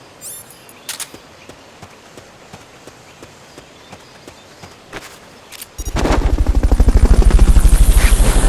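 In Metal Gear Solid: Peace Walker, faint scattered clicks give way to a Fulton recovery helicopter that suddenly roars in close, its rotor chopping loud and steady for the last few seconds.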